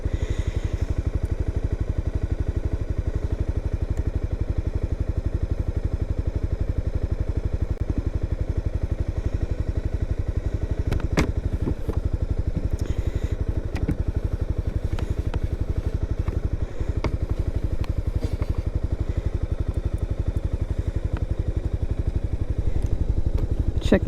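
A motorcycle underway on a ride, its engine droning steadily and loudly for the whole stretch with a constant low rumble, faint clatter and occasional knocks from wind or helmet, and no talk.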